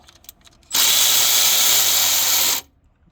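A power tool loosens a throttle body bolt on a 2003-08 Nissan Maxima in one loud, steady burst of about two seconds, starting and stopping abruptly after faint handling noises.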